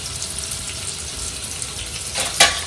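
Curry leaves and tomato sauté in a pan over a village wood-fired stove, a steady close sizzle with a brief louder hiss of fresh moisture near the end, and no voices.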